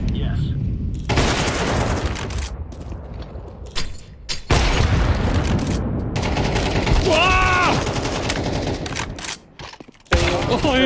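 AK rifle fire in a tactical shooter: loud, dense bursts of gunfire with brief gaps and a few mechanical clicks and creaks between volleys.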